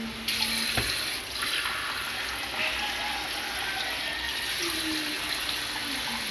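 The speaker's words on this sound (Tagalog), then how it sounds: "Add lang natin ng water." Water pours steadily from a running tap into a cooking pot for tuna, a continuous close splashing rush with a brief clunk near the start and no voices.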